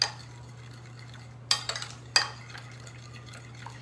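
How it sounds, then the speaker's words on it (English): A chocolate mixture being stirred in a bowl, with a couple of sharp utensil clinks against the bowl and a few softer scrapes, close by over a steady low hum, with no talking. "Now, just stir this"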